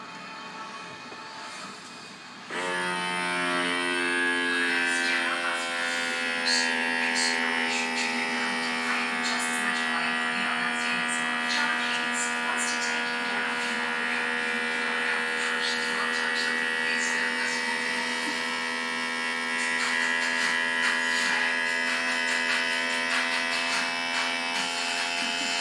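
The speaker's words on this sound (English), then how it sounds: "I want to seal these by sucking out all the air" Vacuum sealer pumping air out of bags of freeze-dried raspberries, strawberries and peas, a steady motor hum and whine that kicks in after a moment and runs continuously, its tone shifting slightly as the air is drawn out.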